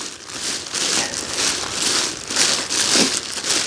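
Paraglider wing fabric crinkles and rustles steadily as the leading edge cells are stacked on top of each other, a close, continuous crisp rustling with small swells.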